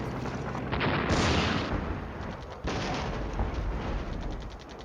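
Anti-tank guided missiles launch amid gunfire in the Flashpoint Campaigns: Southern Storm war game, with two loud sustained bursts of rumbling artillery-like blasts and crackling fire that fill the whole clip.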